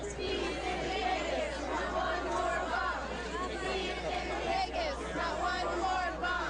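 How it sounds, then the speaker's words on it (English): Large crowd at a Hillary Clinton campaign event in Ithaca, New York, a dense continuous roar of voices chanting and cheering together, steady and loud throughout with no single voice standing out. "A lot of people chanting and having fun"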